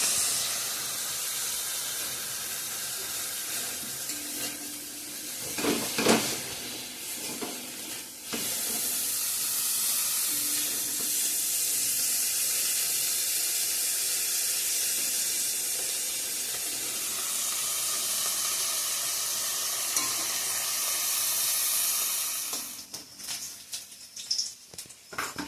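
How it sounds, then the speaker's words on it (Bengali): Shrimp frying in a pan of oil on a home stove, a steady broadband sizzle that holds on continuously for most of the stretch with a few louder bursts of spattering, and no talking over it. "চিংড়ি মাছ ভাজা করছি।"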